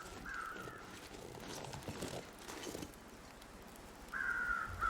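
Distant crows caw in the video game The Long Dark, two drawn-out calls at the start and end over quiet wind-like ambience, with faint footstep-like shuffling between them.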